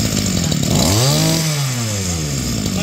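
A Mitsubishi TL26 brush cutter's small two-stroke engine buzzes loud and close, revving up in a sweeping rise and then settling back down.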